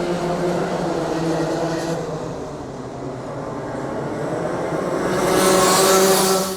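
Close, loud roar of racing cars pulling away after a rolling start at a circuit, engines droning and building in a sustained surge with a rising pass near the end.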